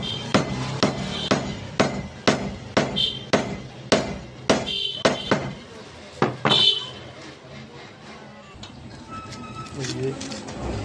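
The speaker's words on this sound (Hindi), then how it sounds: "इसको हम थोड़ा सा लकड़ी की मदद से ठोक लेते हैं।" A piece of wood strikes the winding part of a 0.5 hp tullu water pump in a run of about ten sharp, evenly spaced taps, each close and distinct, then the tapping stops and only quiet background remains.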